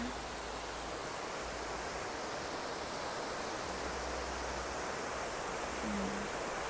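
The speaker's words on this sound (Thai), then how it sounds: "นอนฟังเสียงน้ำตก" Steady rushing water from a waterfall at a riverside resort in Kaeng Khoi, Saraburi, Thailand fills the whole stretch, a constant broadband roar with no breaks, close and fairly loud.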